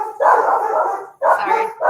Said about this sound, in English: Sorry, dogs. They're keeping us safe.